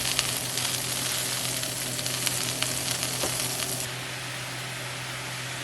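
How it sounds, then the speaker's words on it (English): Seasoned cabbage fries in a pot with a steady, close sizzle, while scraping stirs and clinks come through during the first few seconds before the frying settles into an even hiss. "I just stir it up so that all the seasonings marry, and my cabbage is actually frying"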